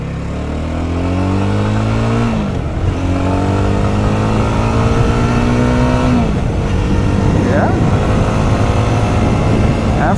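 Steady engine drone of a 2026 BSA Bantam 350 retro motorcycle on the road, loud and close, rising in pitch through the gears with brief dips at each shift and wind rush underneath.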